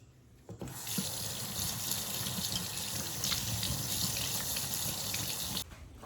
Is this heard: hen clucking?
no